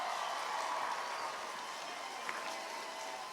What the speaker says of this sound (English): Let's give Jesus the hand clap.